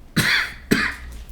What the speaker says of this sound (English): You just edit out that cough.